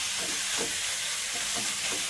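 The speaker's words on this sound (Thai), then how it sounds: "นำหมูสามชั้นเนี่ยครับลงไปกิวในกระทะก่อนครับ" Thinly sliced pork belly fries in a hot pan, a loud, steady sizzle and hiss with a few soft scraping stirs breaking through at intervals.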